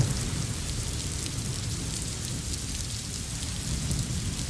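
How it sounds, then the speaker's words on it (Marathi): Sudden heavy rain pours onto waterlogged streets in Mumbai. A dense, constant hiss of downpour with a low rumble beneath it continues evenly throughout, with no voices. "अचानक हा पाऊस आलेला आहे"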